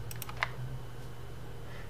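A single sharp computer mouse button click, used while working in Photoshop, sounds near and brief over a low steady hum, with a couple of faint clicks just before it.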